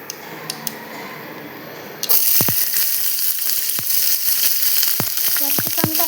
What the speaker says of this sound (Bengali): তেলটা খানিকটা গরম হয়ে এলে আমি এর ভেতরে ক্যাপসিকাম দেব।